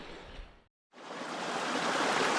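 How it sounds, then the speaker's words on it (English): A small waterfall pouring into a hot spring pool in Idaho, a steady, close rushing splash that cuts out briefly and then returns louder and fuller. "This cool little waterfall coming in."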